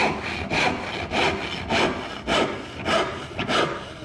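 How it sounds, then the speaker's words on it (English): A hand saw resaws down the binding kerf of a wooden board, with close, loud rasping strokes in a steady back-and-forth rhythm, about seven strokes with no talking. "The saw is binding in the kerf, and I'm not far enough down yet to be able to fit a wedge, so I just resaw down the kerf."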